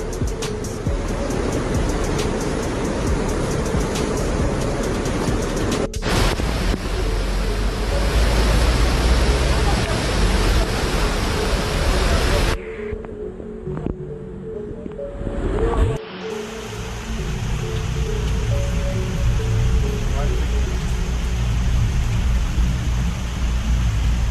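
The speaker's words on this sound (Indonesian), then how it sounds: "air sungai meluap di Desa Loser" A swollen, overflowing river rushes past a bridge in the flooded village of Loser, Ketambe, Aceh, a steady loud roar of churning water with a brief quieter break partway through.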